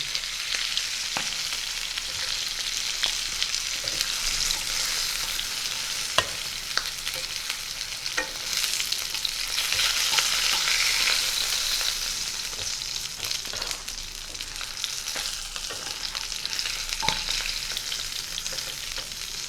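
Rohu fish pieces fry in hot oil in a pan, giving a loud, steady, close sizzle for the whole stretch with a few faint stirring clicks and no voices.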